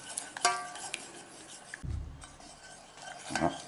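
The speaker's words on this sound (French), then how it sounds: "Hop, et on n'arrête pas de remuer surtout." Butter being stirred into a sauce in a pan, with light scraping, clinking spoon-on-metal taps and soft rubbing sounds, close and fairly quiet with no talking.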